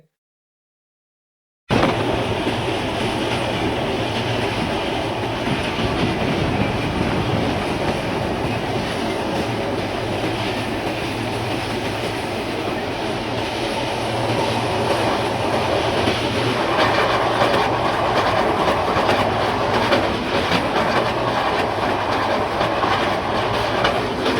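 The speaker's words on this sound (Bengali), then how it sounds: "আমরা ট্রেনে উঠে পড়লাম, আর অল্প কিছুক্ষণের মধ্যে ট্রেনটি ছেড়ে দেবে।" A passenger train in Bangladesh bound toward Mawa station, heard from inside the carriage after a brief silence: a loud steady rumble with rhythmic clickety-clack of wheels over rail joints, growing slightly brighter near the end.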